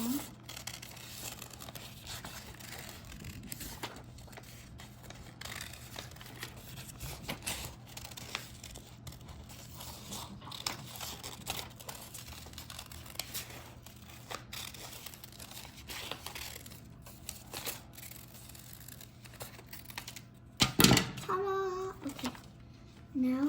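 Scissors snipping and paper crinkling as a paper squishy drawing is cut out, steady soft rustles through most of the stretch with a louder crunch near the end.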